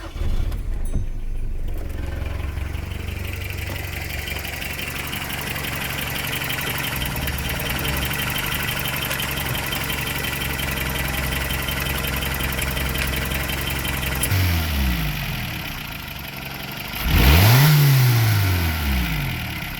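A 1990 Toyota Hilux pickup engine idles steadily at close range, then is revved twice near the end, the second rev louder, rising and falling, with no talk.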